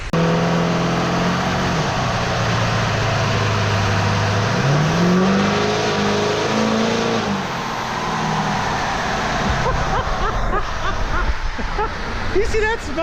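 A half-million-mile Duramax diesel pickup engine roars steadily under load on a Dynojet chassis dyno, loud and sustained, with the pitch sweeping as it winds through the pull and people speaking over it.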